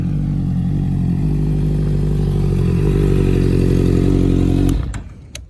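Honda CB converted into a 2015 CBR650F with an LED headlight and loud aftermarket exhaust revs hard and steadily for nearly five seconds, close and loud, then cuts off abruptly.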